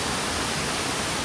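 Somtirth waterfall near Nivendi village, a steady, dense roar of falling water that fills the air evenly and close by, with no other sounds standing out.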